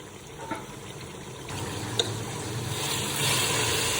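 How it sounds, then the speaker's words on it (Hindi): Keema and mash daal masala sizzles gently in a pan over a low flame while being stirred, a soft steady frying hiss with occasional scrapes, close and fairly quiet with no talking. "इसी तरह आहिस्ता आहिस्ता फ्लेम पे इसकी भुनाई करेंगे।"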